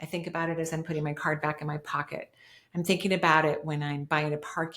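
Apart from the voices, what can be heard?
No distinct noise like a dog, phone or traffic.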